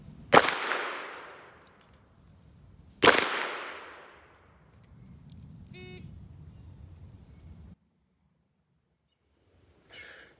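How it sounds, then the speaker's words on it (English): Two sharp Glock 19 pistol shots are fired from the prone position during a Nevada law enforcement qualification course, loud cracks about three seconds apart with decaying echoes, followed by faint rustling and short electronic beeps. "fire 2 rounds from the prone position into the body of the target in a time limit of 10 seconds"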